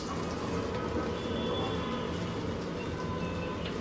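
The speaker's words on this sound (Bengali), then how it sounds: "এখন এর মধ্যে এই পরোটাটা দিয়ে আমি ভেজে নিব।" A scallion leaf paratha fries in a hot pan with a steady, dense sizzle that holds evenly throughout, close and fairly loud, with no talking.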